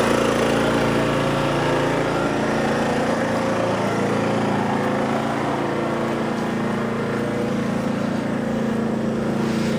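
A Sportsman GEN3500i inverter generator runs steadily under a 1500 watt load in a confined space beside a fence and garage, giving a continuous, fairly loud engine drone with exhaust noise that holds level throughout.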